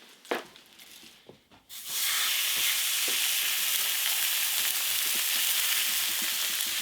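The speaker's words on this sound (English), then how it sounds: "I'm going to sear at very high heat for 3 minutes on each side" Sirloin steak searing in a hot pan at very high heat, a loud, steady sizzle and hiss that starts abruptly and holds constant, with a few soft clinks at the start.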